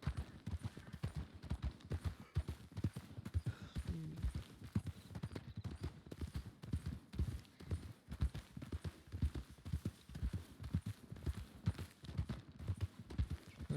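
Video game horse hooves at a canter, a steady rapid clip-clop rhythm running continuously and fairly close throughout.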